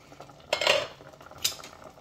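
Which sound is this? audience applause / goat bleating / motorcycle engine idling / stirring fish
stirring fish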